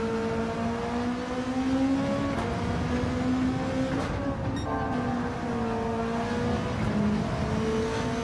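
A GT3 race car engine in a sim racing game on a German track drones steadily and loudly at high revs, the pitch rising and dipping with gear changes, with no voices over it.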